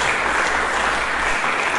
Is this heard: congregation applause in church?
yes